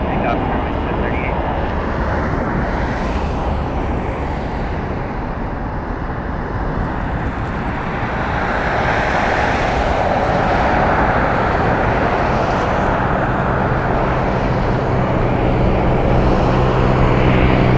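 A fixed-wing airliner roars steadily during its takeoff run at Las Vegas Harry Reid International Airport, a loud continuous engine rumble that swells slightly toward the end.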